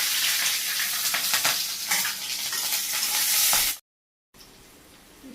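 Vegetables with green chili and fenugreek fry in a pan in a simple Bangladeshi home kitchen, giving a steady close sizzle with stirring scrapes that cuts off briefly and then returns.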